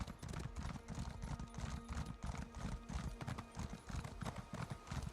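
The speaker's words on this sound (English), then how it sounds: "It's a hell of a horsey sound," In the Elder Scrolls Online, a horse's hooves clip-clop in a quick, steady rhythm, dense and close, over game sounds in the background.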